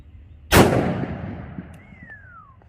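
A single loud, close .44 Magnum revolver shot firing Black Talon ammunition outdoors, a sharp crack followed by a long, rolling echo that slowly fades.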